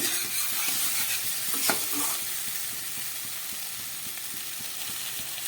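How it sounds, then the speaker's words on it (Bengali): Potatoes fry with spices in a pan for a fish-head Malabar spinach curry, a steady close sizzle with regular scraping stirs throughout and no talk. "আবার কিছুক্ষণ এটাকে একটু মশলা দেবার পরে ভেজে নিচ্ছি।"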